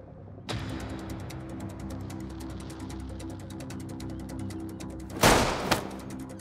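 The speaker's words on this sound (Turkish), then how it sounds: "Silah sesi." Gunfire in a Turkish action drama's shootout scene: a long run of rapid, evenly spaced shots like an automatic weapon, then a loud, close blast near the end.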